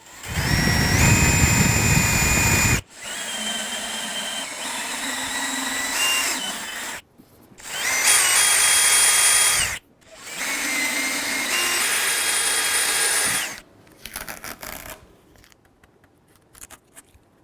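Power drill boring a small 1/16 inch pilot hole, four bursts of high motor whine of a few seconds each with short pauses between, close and fairly loud, followed by quieter handling noises.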